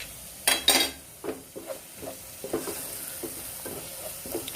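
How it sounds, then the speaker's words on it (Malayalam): A spoon stirs kabsa masala in a sizzling pan, giving a couple of sharp metallic clanks at first, then repeated scraping strokes over a continuous frying hiss, close and fairly loud. "എല്ലാം കൂടി നന്നായിട്ട് ഇളക്കി കൊടുക്കാം."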